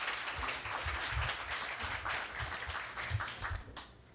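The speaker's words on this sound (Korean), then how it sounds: "네, 다시 한번 박수 주시겠어요?" Audience applause at a Korea University K-MOOC award ceremony, a moderate, steady patter of clapping from a seated group that holds for several seconds before thinning out, heard without any talk over it.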